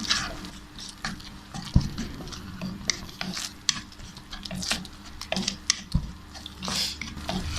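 A spoon scrapes and stirs apricot chutney with chaat masala in a pan over the heat. Irregular clinks and soft scraping run throughout, with a faint sizzle underneath, and no voices.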